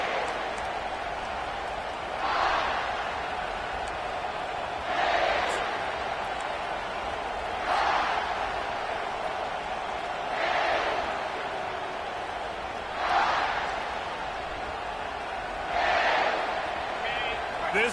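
A South Carolina football stadium crowd gives a continuous, distant roar that swells in regular waves every few seconds, like rhythmic chanting.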